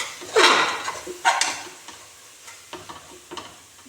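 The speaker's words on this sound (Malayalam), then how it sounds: "കഴുകി മാറ്റി വെച്ച ബീഫ് ഇട്ട് കൊടുക്കുക" Washed beef tipped into a pan of hot spices, turmeric powder, cinnamon and fennel seeds, giving two near bursts of sizzling with stirring and light clinks of a utensil against the pan, then fading to quieter frying.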